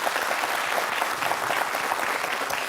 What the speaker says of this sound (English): A round of applause for Leader 1 and Leader 5's debate.